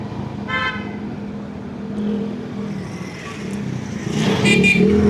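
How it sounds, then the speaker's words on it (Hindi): A motorcycle rides through town traffic in Mithi in Pakistan's Thar desert, its engine droning close by while car horns toot nearby and the busy street rumbles. "इस वक्त हम मोटरसाइकिल पर हैं।"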